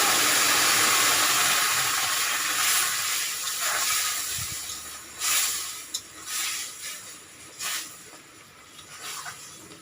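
Boiled ash gourd added to a pan of oil with spluttering panch phoron sets off a loud, broad hiss that slowly fades into a softer sizzle, with a few light scrapes near the end.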